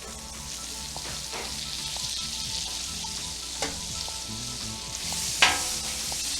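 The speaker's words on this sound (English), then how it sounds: "Now we're going to add some butter to our griddle. Throw some butter on there." Butter sizzles and fries on a hot Blackstone flat-top griddle, a steady close crackling hiss with scattered pops and light scraping as it is spread around.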